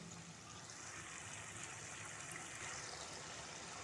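Water pours steadily into frying masala of turmeric and spices for a moong dal and ridge gourd curry, a continuous soft hiss and trickle from start to finish, fairly quiet with no talking.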